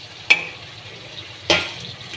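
Green chilli, ginger-garlic paste and coriander leaves frying in a pan, with a soft sizzle underneath and two sharp spatula scrapes against the pan about a second apart.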